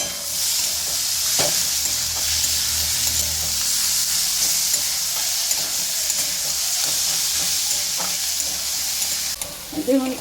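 Onions, tomato and capsicum fry in a pan with a steady, loud sizzle and hiss, broken by occasional scraping stirs of a spatula, close and continuous with no talk.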